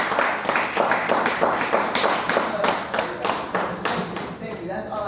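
An audience claps together in a steady burst of applause for a man honoured at a mental health awareness gathering, moderately loud and sustained with scattered louder claps, a little chatter mixed underneath.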